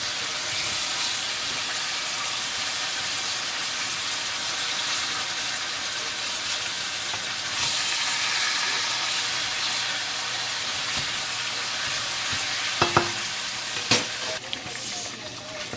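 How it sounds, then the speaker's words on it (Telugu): Chopped tomatoes sizzle and fry steadily in a pan for tomato pachadi, with a continuous close hiss and a few louder scraping stirs near the end. "మనం ఇప్పుడు దీన్ని తిరిగేస్తున్నాం టమాటాని."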